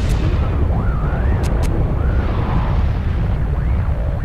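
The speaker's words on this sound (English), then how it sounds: "I dropped a nuke." A nuclear blast in the video game Toy Soldiers: Cold War roars as a loud, sustained low rumble, with warbling game effects and brief sharp tones layered over it and voices speaking faintly.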